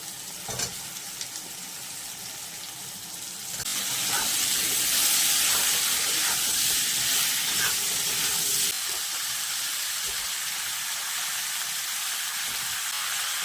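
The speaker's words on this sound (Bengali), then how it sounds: "এই কড়াই তেল দিয়ে দিচ্ছি। এবার দিয়ে দেবো কেটে রাখা আলু" Cut potatoes hit hot oil in a wok, setting off a loud, bright sizzle that jumps up partway through and keeps frying steadily with bubbling hiss, no voices over it.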